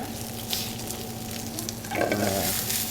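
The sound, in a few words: sautéing mushrooms with onion in a pan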